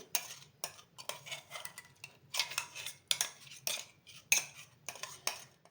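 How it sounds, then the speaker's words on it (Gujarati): Garlic and chili chutney scraped into a bowl: roughly a dozen close, sharp metallic scrapes and clinks come in quick, uneven strokes, with no voices. "હવે આપણી આ મરચાંની લસણની ચટણી થઈ ગઈ છે, એને આપણે વાટકામાં કાઢી લઈએ"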